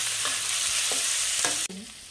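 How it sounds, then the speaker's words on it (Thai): Pork belly stir-fries in a hot pan, a loud close sizzle broken by several quick scraping strokes of a spatula, with the hiss dropping sharply near the end. "ก็จะผัดหมูก่อนนะคะ"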